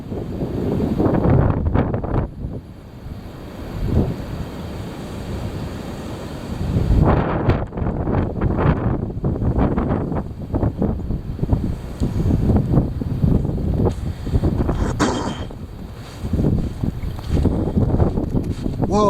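Heavy wind buffets and roars in loud, uneven gusts with rumbling bursts and brief lulls between them, the gusts sometimes thumping directly against the microphone.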